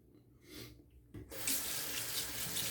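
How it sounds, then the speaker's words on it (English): Tap water runs into a sink to rinse it out, starting faintly and then surging into a steady, close, full splashing stream that continues to the end. "I'm gonna rinse the sink out too"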